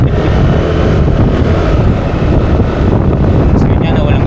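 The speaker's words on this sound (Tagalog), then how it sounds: "Lakas ng hangin." Strong wind roaring across the microphone on a night motorbike ride heading home to Navotas, a loud continuous rumble with engine and road noise underneath.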